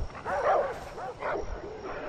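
Dogs in the video game Far Cry 4 bark and yip in a few short bursts nearby, their calls rising and falling over a faint game background.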